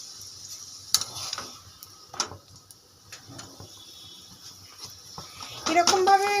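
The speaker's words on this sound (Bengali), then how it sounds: "এবার আমি এখানে তেল দিয়ে ভাজছি" A yogurt paratha fries in oil on a pan, soft sizzling with scattered clinks and scrapes, under a woman's speech and getting louder near the end.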